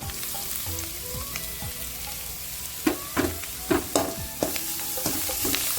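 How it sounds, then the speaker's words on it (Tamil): Onions and carrot sauté in a pan for carrot rice, a steady close sizzle broken by a run of sharp spoon scrapes and clinks against the pan as they are stirred. "வெங்காயம் வதங்கிடுச்சு கேரட் சேர்த்துக்கலாம்"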